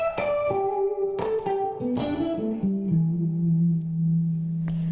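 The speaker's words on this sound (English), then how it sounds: "Now if I add in the middle humbucker" A Brian May signature electric guitar with the neck and middle humbucker pickups combined in phase: several plucked notes stepping downward in pitch, then a held low note that rings on, clear and up close with no talking.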